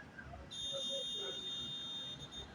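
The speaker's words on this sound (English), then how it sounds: "You hear a beep. It shows it has continuity, which is the booster mode." A digital multimeter set to diode continuity mode emits one steady electronic beep lasting about two seconds, clear and close, with faint background noise underneath.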